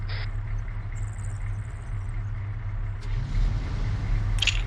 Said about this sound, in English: First car moving.